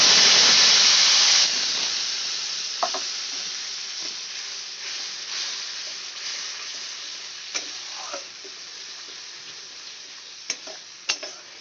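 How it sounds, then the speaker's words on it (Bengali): Tomato, cashew and green chilli paste hits hot tempering oil with a loud burst of sizzle that gradually settles into a steady frying hiss, broken by a few sharp spoon or pan clinks. "এবার আমি টমেটো, কাজু বাদাম আর কাঁচা লঙ্কার যে পেস্টটা ছিল সেটা দিয়ে দেবো।"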